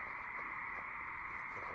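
A dense chorus of frogs croaking at night, a continuous loud trilling drone from many animals, steady and unbroken throughout.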